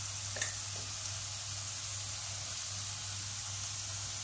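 Cumin seeds sizzle in hot oil in a kitchen pan as an aloo dish is cooked, giving a steady, even frying hiss with a low hum underneath.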